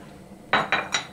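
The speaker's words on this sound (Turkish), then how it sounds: "Soğanımı alıyorum içerisine." Onions tumble into a pot with olive oil, landing as three quick, bright clattering hits in close succession over a quiet background.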